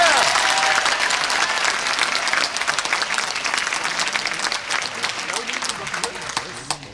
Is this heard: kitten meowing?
no